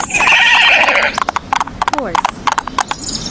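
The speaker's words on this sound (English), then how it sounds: "Horse." A cartoon horse gives a loud, rising-and-falling neigh amid a quick run of clip-clopping hoofbeats, all bright and close with no talking.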